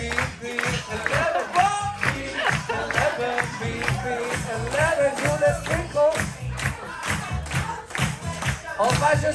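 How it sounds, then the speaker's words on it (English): Audience aboard the Disney Fantasy cruise ship claps hands in a steady rhythm, a dense wash of crowd noise and cheering carrying on throughout, with voices mixed in. "let me see you clap those hands. Come on, clap."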